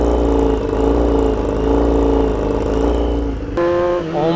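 A BMW HP4 Race superbike with a new loud full exhaust revs hard and holds a steady, raspy high-pitched engine scream up close. Near the end it drops into quick blips that rise and fall in pitch.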